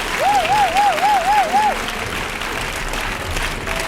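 Wedding guests at a customary and civil marriage ceremony applaud steadily through the clip, a dense wash of clapping with a faint whistle-like tone early on.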